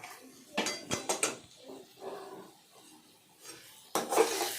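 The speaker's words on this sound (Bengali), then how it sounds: "ভালোভাবে নাড়াচাড়া করলাম যাতে না পুড়ে যায়" Fried potatoes stirred in a pan while making a fish curry, with a few close metallic scrapes and clinks of a spoon against the pan, quieter rubbing in between, and a final burst of stirring.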